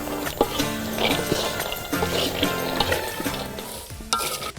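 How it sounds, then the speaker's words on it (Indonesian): Terap seeds stirred continuously while roasting in a pan, giving a constant close scraping and rustling over a soft sizzle, with occasional louder clinks of the utensil against the pan. "Selama dimasak, biji terap harus diaduk terus-menerus agar tidak ada bagian yang gosong."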